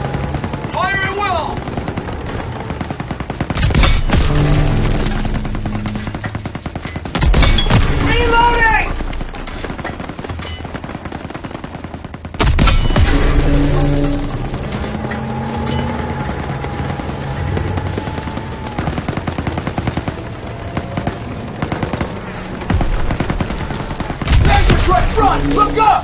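Rapid machine-gun and rifle fire rattles in loud, dense bursts during a Call of Duty WWII campaign battle, with shouted voices and explosions mixed in.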